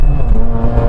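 A Mazda RX-8 rotary engine at full throttle, a loud, steady, close drone with a low buzzing hum and no voices.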